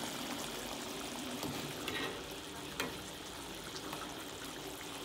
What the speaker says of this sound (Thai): เอากุ้ง มังกรที่เราทอดไว้ก่อนแล้วเอาลงไปผัดอีกทีนึงค่ะ